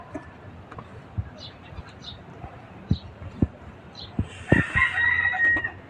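Chickens cluck and call nearby in scattered bursts, and a rooster crows loudly toward the end.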